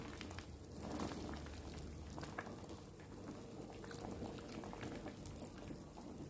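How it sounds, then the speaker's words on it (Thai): A pot of Thai curry with young jackfruit and pork bones bubbles at a steady boil, continuous gurgling and popping of liquid with no talking. "รอให้ตะน้ำเดือดก็ใส่ได้แล้วค่ะ"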